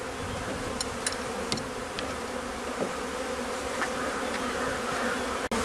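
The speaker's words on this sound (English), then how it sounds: "I dropped a little syrup on the front there, so those bees are interested in that." Honey bees buzz around the entrance of a Langstroth hive after a package installation, drawn to syrup dripped on the front, making a steady close droning swarm hum with occasional individual bees passing near, no talking.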